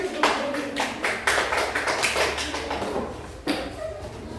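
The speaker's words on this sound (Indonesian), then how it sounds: "Tepuk tangan." Students in a classroom clap together in a brief burst of applause, a dense patter of hand claps that starts sharply, fades, then picks up again near the end, close and fairly loud in a small room.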